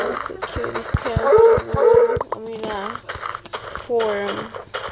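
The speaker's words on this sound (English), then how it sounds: "We'll kill these cows." Cows mooing in the Minecraft video game, a few low drawn-out moos mixed with game clicks and thuds, heard over a steady background.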